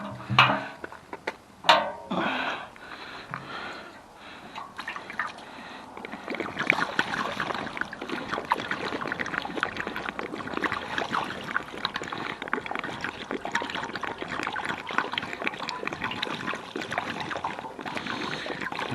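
Diesel poured into the bone-dry tank of a Mark 5 VW Golf GT TDI, a continuous close gurgling trickle after a few clunks of handling at the start.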